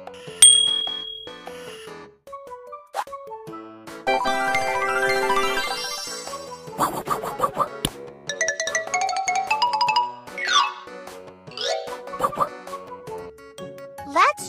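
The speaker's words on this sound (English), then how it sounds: "Write this letter and listen to the sound of xylophone." A children's xylophone tune of bright, ringing struck notes, with single taps at first and then quicker runs and glissando-like sweeps mixed with chiming bell tones, played without any speech.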